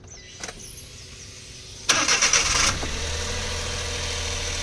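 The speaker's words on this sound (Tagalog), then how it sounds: "So ngayon pandarin natin ang makina." A Suzuki DA64W engine cranks briefly with a whirring starter, catches and settles into a steady close idle, following a click and a faint electronic chime.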